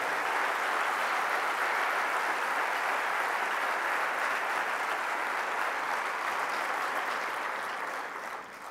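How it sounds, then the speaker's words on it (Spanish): A big crowd at a municipalist rally gives strong, sustained applause for the volunteers, a thick steady roar of clapping that holds for several seconds and then fades slightly at the end. "un fuerte aplauso para las voluntarias y voluntarios que hacen posible actos como estos"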